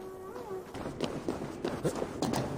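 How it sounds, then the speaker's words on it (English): A short meow-like tone at the start, then soft, evenly spaced padding cat footsteps with faint rustles, close and fairly quiet, in the video game Assassin's Creed Valhalla. "I know a cat's footfall when I hear one"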